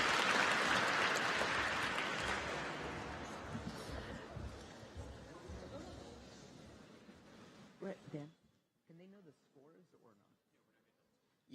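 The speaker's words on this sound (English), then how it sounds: "A round of applause for all teams" Audience applause for the competing teams at the Academic WorldQuest 2024 National Competition, loud at first and steadily fading over about eight seconds before a voice begins speaking alone.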